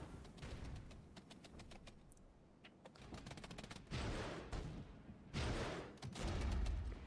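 A Bradley autocannon fires in a Regiments military strategy video game, sounding as repeated bursts of gunfire. The loud cracks come in clusters with short gaps between them, over a rumbling battlefield background.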